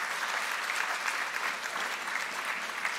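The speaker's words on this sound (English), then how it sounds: "Let's give all of our speakers a round of applause once again." Audience applause for the speakers at a peace summit think tank session, a steady dense wash of clapping from a sizable crowd that holds evenly for the full length with no talk over it.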